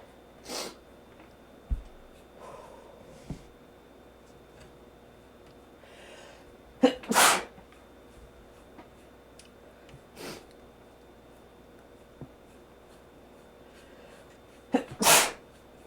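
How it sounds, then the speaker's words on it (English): A person sneezes several times, bursts spread out singly and in pairs with quiet gaps and small sniffs between, close and fairly loud, without talk. "All that sneezing, sniffling."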